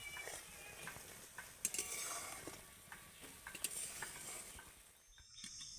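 A spoon stirs an onion mixture in bubbling oil in a pan, giving soft scraping and occasional clinks over a faint, steady sizzle; quiet and close.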